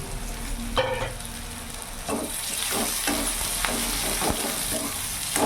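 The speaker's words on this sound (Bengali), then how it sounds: "পেঁয়াজের কাঁচা ভাবটা যতক্ষণ না যাচ্ছে ততক্ষণ আমি একটু ভাজা ভাজা করে নেব" Chopped onions fry in a pan over a medium gas flame, giving a steady close sizzle with scraping stirs and small crackles throughout and no talk.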